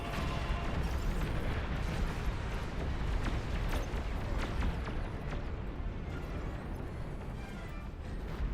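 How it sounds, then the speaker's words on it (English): Dense, continuous battle din from the real-time strategy game Beyond All Reason, with a steady rumble of overlapping booms and crackling bursts as banelings die in explosions throughout, loud and unbroken with no clear gaps. "Did you hear those explosions? Those were the banelings dying."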